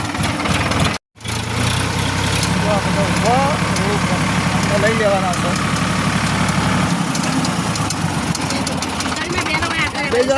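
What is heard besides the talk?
tractor engine idling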